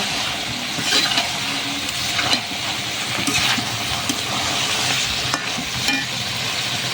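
Papaya for a shrimp and papaya curry being stir-fried in a pan, a continuous sizzle broken by repeated stirring scrapes and clinks, close and with no talk.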